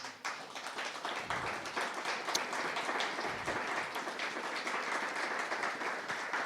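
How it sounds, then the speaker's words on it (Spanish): A church congregation claps together in sustained, even applause that holds at a moderate level from start to finish. "Denle un aplauso al Señor."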